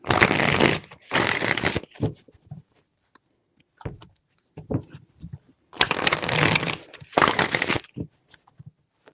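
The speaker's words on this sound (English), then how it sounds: "Four shuffles" Tarot cards are shuffled in four brisk riffling bursts, two close together, a pause with faint handling sounds, then two more, close and crisp with no talking.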